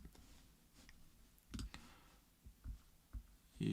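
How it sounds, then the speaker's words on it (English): Computer mouse clicking at a desk, a handful of faint, sharp clicks spaced irregularly over low room noise. "You don't want to hear me clicking."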